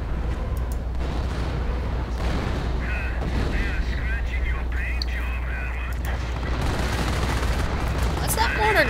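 Mortar blasts and rapid gunfire from a multiplayer war video game rumble on continuously at loud volume, with low booms under a dense crackle of shots while players talk over the battle.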